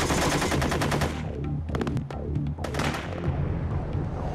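Rapid automatic gunfire during combat training against pop-up targets, loud sustained bursts of shots, then a brief gap and a few sharper single reports before firing resumes, with no talking.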